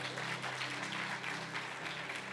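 Audience applause for a man during a church sermon, a quiet, fairly distant patter of clapping hands that holds evenly for a couple of seconds.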